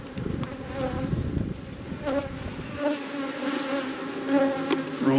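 Honey bees buzz at an open hive as supers are added, a continuous close swarm hum with individual bees droning past, and a low rumbling handling noise in the first few seconds.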